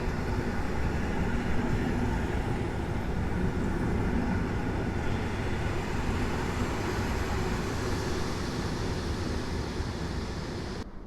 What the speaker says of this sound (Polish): Pociąg Polregio EN57 2006 do Kozłowa.